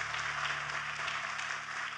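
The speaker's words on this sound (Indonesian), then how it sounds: "Tepuk tangannya boleh yang paling meriah buat Tuhan kita" A church congregation applauds, a dense, steady wash of clapping for two seconds at moderate loudness, with a faint low hum underneath.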